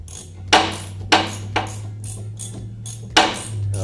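Ratchet wrench with an 11 mm socket working bolts in the engine bay of a 1965 Thunderbird convertible, five sharp clicks and knocks spaced unevenly over a steady low hum, close.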